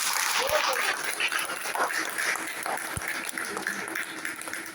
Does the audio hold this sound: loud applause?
yes